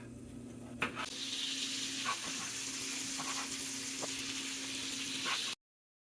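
Meat sizzles steadily in an oiled pan while jambalaya is cooked for a birthday spread, a continuous close frying hiss with a few scattered clinks and stirring knocks, no talk over it.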